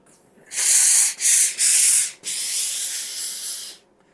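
A Laurastar iron releases dry microfine steam in several loud, close hissing bursts, with short breaks between them, before the hiss cuts off.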